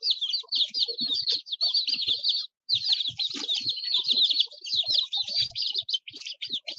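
Bantam chicks huddled in a corner of an indoor playpen keep up a dense, continuous chorus of high peeping, with faint scratching and shuffling beneath, one brief gap in the middle.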